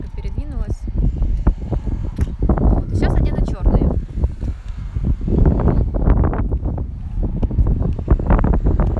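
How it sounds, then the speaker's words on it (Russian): Heavy wind buffets the microphone with low, rumbling gusts throughout while a person talks underneath. "Сегодня у нас ветрено."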